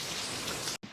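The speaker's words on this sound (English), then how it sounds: "It looks like the rain is just a sprinkle now, and it should get better as the night goes on." Light rain falls outdoors in a suburban backyard as a steady, fairly loud hiss of drops, with no voices, cutting off abruptly near the end.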